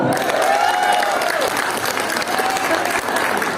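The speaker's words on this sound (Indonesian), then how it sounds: "Tepuk tangan" Loud applause from a crowd at a talk show for the founding story of a rural bank, dense clapping with faint cheering and some voices mixed in.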